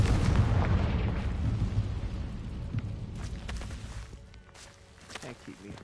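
Confringo blasting spell in Hogwarts Legacy, a booming fiery explosion that rolls out and fades, followed by faint crackles and footsteps, with a voice speaking over parts of it.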